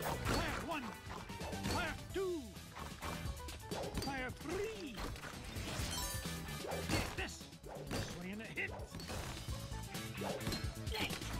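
Heavy treasure smashing down in the DuckTales game, several loud crashing thwacks over busy game music and effects, with a voice talking through parts of it.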